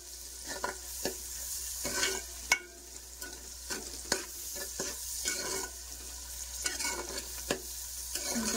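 Onions and green chillies sizzle in plenty of oil for a fish curry. A spoon scrapes and stirs the pan in irregular knocks over a steady frying hiss, close and clear, with no voices.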